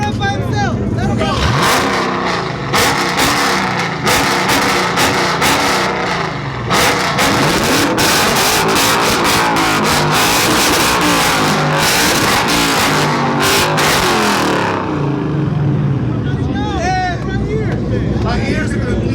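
V8 drag cars launching and racing at Racewars, a loud, dense engine roar with sharp revving bursts and gear changes that fills the clip, ending in a higher whine, with people shouting and talking over it.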